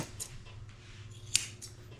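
Curved grooming scissors trimming a senior poodle's hair give several crisp, close snips spaced irregularly over a quiet room hum, with one sharper cut standing out near the end.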